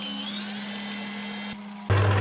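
A kitchen mixer blends roasted peanut biscuit dough, a steady motorised whine running close and continuous, then briefly dropping before surging louder and rougher near the end.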